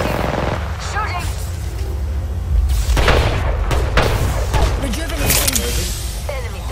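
Gunfire in the Apex Legends video game, repeated loud bursts and booming shots in rapid clusters, mixed with game effects and heard close and harsh.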